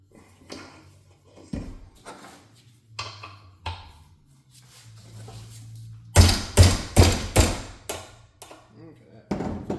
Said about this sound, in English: Vice and a 2-pound sledge. It's always your friend.